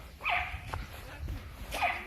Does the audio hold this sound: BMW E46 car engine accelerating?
no